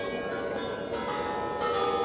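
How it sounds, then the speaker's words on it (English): Church bells of Spassky Tower on Red Square in Moscow ring out as a steady, resonant wash of overlapping tones, moderately distant under crowd ambience. "good timing for the church bells to ring, or at least on Spassky Tower"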